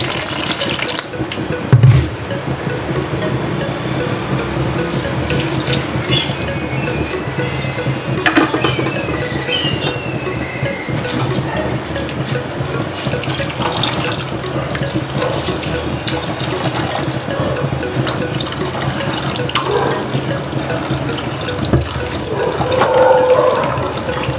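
Roughly two cups of water pour into a pot of soaked chickpeas and rice for pulao: a continuous splashing, gurgling stream close by, with small knocks and drips throughout and no talk.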